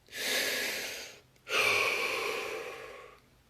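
Two deep, breathy inhalations in a guided relaxation session, the first short and the second longer and fuller, close and soft with a brief pause between, no talk.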